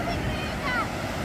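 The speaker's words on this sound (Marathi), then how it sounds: "लाट्या बघा जोरात दिसत आहे" Sea waves wash against a rocky shore with tall rocks and boats out on the water, heard as a steady, broad roar mixed with wind buffeting the microphone for the whole short stretch.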